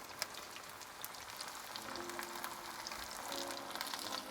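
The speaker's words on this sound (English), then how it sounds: "When you're frying stuff like this in oil," Buffalo chicken burgers frying in oil, a soft, steady crackle and sizzle with scattered pops, quiet and close with no talking.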